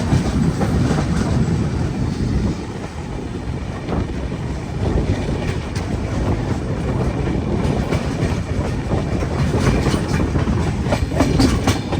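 Inside a moving train, the PrayagRaj to Visakhapatnam Kumbh Mela special, steady rumbling and rattling of the carriage continue throughout, with wheel clatter and wind noise close to the microphone.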